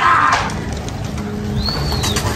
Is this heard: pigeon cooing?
yes